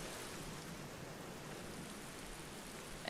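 Steady rain falls in the video game The Black Mirror, an even wash of patter and hiss, continuous and fairly quiet, with no talking.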